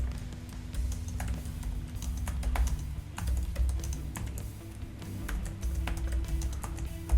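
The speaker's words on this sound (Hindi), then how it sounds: "मैं टाइप कर देता हूँ best way to earn money online." Rapid typing on a computer keyboard, close and steady, with irregular bursts of key taps running throughout and no voices.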